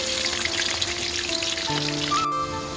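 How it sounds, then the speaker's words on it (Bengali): Pumpkin fries in oil on a stove, a steady, close crackling sizzle running throughout, with faint tonal hums and a brief soft clatter near the end. "এইবার ভাজা হচ্ছে কুমড়োটা"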